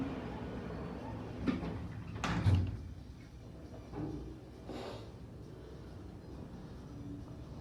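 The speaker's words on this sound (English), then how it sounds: "Door closing." An arrivals door at Manchester Airport Terminal 2 closes with a few soft thuds and a sliding bump against a low, steady hum of the building.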